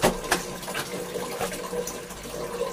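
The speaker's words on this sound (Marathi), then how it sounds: "हे बघा असं पाणी चालू ठेवायचं" Tap water pours steadily while clothes are hand-washed with bar soap, a soft, continuous splashing trickle heard close by and fairly quiet, with no voices.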